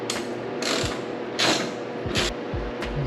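A ratchet clicks in short, rapid bursts while tightening a bolt on an S15 Silvia during painting work, loud and close against a steady background hum.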